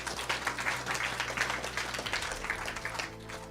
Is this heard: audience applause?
yes